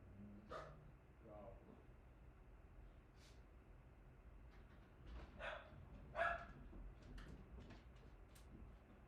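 A pet dog named Winnie barks excitedly at a package delivery, sharp yips and barks scattered over several seconds in an indoor room, with some faint background noise.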